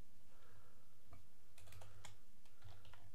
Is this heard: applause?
no